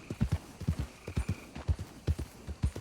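Horse hooves clip-clop along in Red Dead Redemption 2, a steady, close, rhythmic run of clear thuds paired in quick beats throughout, with no talk over them.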